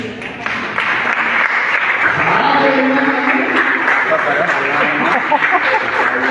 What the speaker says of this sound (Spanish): Un aplauso para mí.